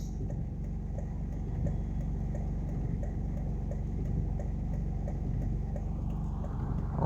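A car drives through flood water in Barbican, Jamaica. A steady, close, low engine rumble holds throughout and rises slightly at the end.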